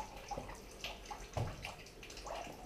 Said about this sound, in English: just gently running water into the top of it